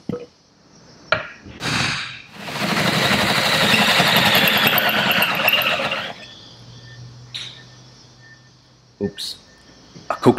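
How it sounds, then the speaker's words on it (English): A hole saw on a hand drill cuts through a boat dashboard while an outboard tachometer is fitted, with the drill burning out from the strain, giving a loud grinding whine for several seconds between short knocks and pauses. "letting the hole saw do the work."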